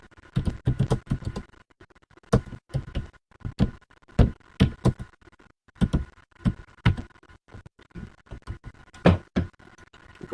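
Typing on a computer keyboard: close, clear key clacks in irregular quick runs and short pauses, with occasional louder strikes and no talk over them.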